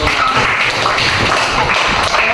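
A group of people in a teachers' coaching session clapping together, a dense, continuous patter of many hands at close range, sustained evenly throughout.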